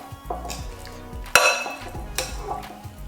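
Spicy Southwest salad ingredients are tossed and stirred in a bowl, giving soft rustling and scraping with a sharp clatter partway through, close up, with no talking.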